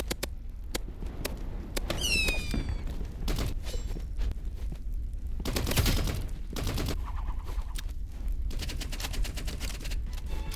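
Assault rifle gunfire in the Roblox Rivals shooter game, short bursts of sharp shots with gaps between, loud and close, over game ambience and scattered effects.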